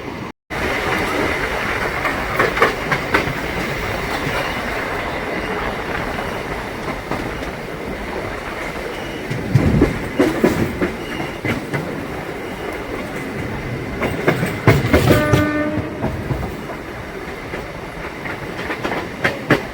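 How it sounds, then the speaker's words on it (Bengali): A Katwa–Ahmedpur MEMU train rumbles steadily as it pulls out of Niral railway station, with rhythmic clickety-clack of wheels over rail joints growing louder in bursts, and faint voices underneath. "আমাদের train Katwa Ahmedpur MEMU নিরল rail station ছেড়ে যাচ্ছে"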